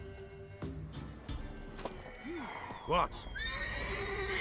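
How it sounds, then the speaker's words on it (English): A mare whinnies loudly in The Witcher 3 video game while hooves clop and game ambience runs underneath, with a brief spoken word from a character. "Worthy of the best horse. The mare is yours."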